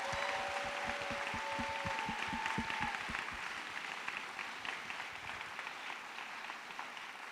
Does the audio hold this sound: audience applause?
yes